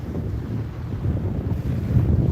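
Steady wind on a beach during surf fishing buffets the microphone with a low rumbling roar, continuous and fairly loud throughout, with no voices.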